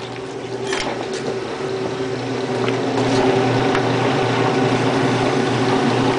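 Maytag washer with its pump running and the drive belt turning the pump pulley, giving a steady close mechanical hum and churning rumble that grows slightly louder midway, with no talking.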